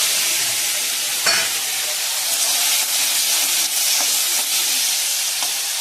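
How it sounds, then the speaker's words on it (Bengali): Tomatoes go into hot oil with black cumin in a frying pan for pomfret fish curry, raising a loud, steady sizzle and hiss with a few faint stirring clicks and no talking. "এবার টমেটোগুলো দিয়ে দেবো। এখন টমেটো দিচ্ছে।"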